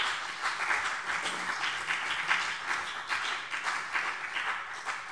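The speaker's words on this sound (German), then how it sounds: "Applaus" A state parliament plenary session fills with steady applause from many members, a continuous, moderately loud clatter of hands sustained for about five seconds without speech.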